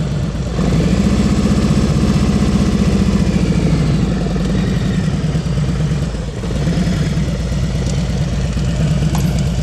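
A motorcycle engine idles and putters steadily and close by through slow-speed riding practice in Texas, with a low rumble that rises slightly, then dips briefly near the end.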